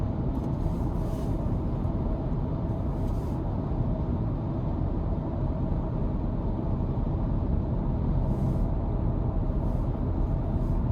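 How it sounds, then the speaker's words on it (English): Steady road and tire noise inside a 2025 Ford Ranger XLT FX4 pickup while driving: a constant low rumble and hiss that stays even throughout, with no talking. "road noise is not terrible. You can hear the tires, but it's not anything I would complain about"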